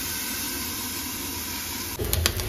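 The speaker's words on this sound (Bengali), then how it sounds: "এবার মাছটা ঢেলে দেবো।" Small fish poured into hot mustard oil spiced with black cumin and dried chillies, a steady hiss that bursts into a louder, crackling sizzle as the fish hit the pan.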